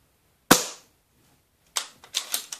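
An Ares MS700 airsoft rifle loaded with 0.2 gram BBs fires one sharp, close shot, then after a pause a quick uneven run of several more sharp cracks.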